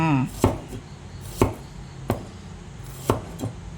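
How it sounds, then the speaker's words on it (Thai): A knife slices through shallots on a cutting board in four or five distinct, sharp chops spaced about a second apart, close up over a quiet background. "หอมแดงหั่นซอยเลยจ้า"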